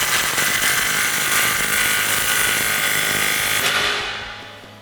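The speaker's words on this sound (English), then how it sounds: "I'm going to take my 3/8 gun with my 16 millimeter and snug this one up" A 3/8-inch impact gun with a 16 mm socket snugs an exhaust clamp on a 2009-2018 RAM 1500 5.7L dual exhaust, a loud, close, continuous rattling whir for about four seconds that then cuts off.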